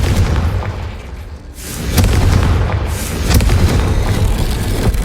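A Confringo fire spell explodes in the video game Hogwarts Legacy: two loud booming bursts about a second apart, each swelling into a rumbling roar, over a steady low drone of game sound.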